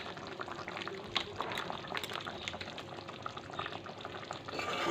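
Prawn malai curry in coconut milk simmering as garam masala is stirred in, a steady bubbling sizzle with soft scraping of the spoon, close and continuous, no voices.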